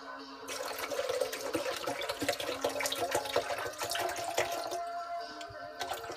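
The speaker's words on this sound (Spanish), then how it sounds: "vamos a poner agua de coco. Coco libre, orgánica." Organic coconut water is poured into a blender for a Marion berry and macadamia smoothie, giving a continuous splashing, gurgling stream of liquid at close range for several seconds, with no speech.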